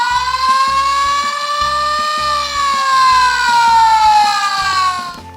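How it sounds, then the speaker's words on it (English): A steady electronic toy siren from a Disney Pixar Cars toy wails on one rising and falling tone, loud and close, with a rhythmic beat thumping underneath. "the sheriff is anxiously blowing a siren"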